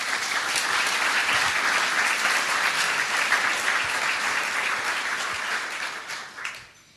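Dense, loud audience applause at an awards ceremony for a symphony orchestra harpist, a sustained wash of many hands that fades out near the end.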